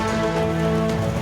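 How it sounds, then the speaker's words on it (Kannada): Steady, continuous rain falls in Mandya, a dense broadband wash with a droning tonal hum beneath it. "ಮಂಡ್ಯದಲ್ಲೂ ಎಡಬಿಡದೆ ಮಳೆ ಸುರಿಯುತ್ತಿದೆ."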